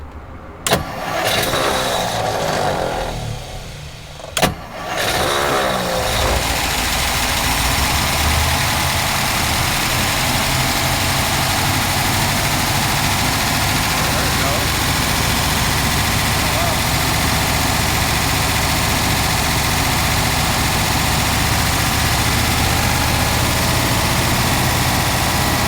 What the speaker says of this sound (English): When you get it started, Caden, kick it up at least 600 or 700 RPM because it's barely idling at like 400.